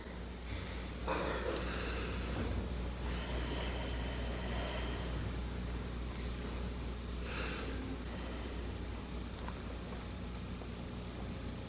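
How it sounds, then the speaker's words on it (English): A group takes slow, deep breaths together during a spiritual lecture, with a few soft rushing inhales and exhales over a constant background hiss and no speech. "Let's begin with a deep breath."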